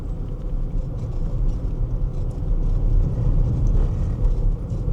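A car in reduced power mode drives over a bumpy road, giving a steady low rumble of tyres and engine from inside the cabin with uneven surges, loud and close.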